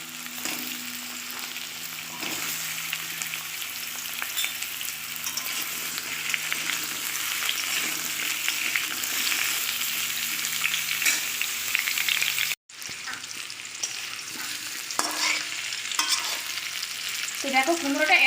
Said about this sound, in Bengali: গ্যাসটা আস্তে করে দিয়ে কুমড়োগুলো একটু ভেজে নিতে হবে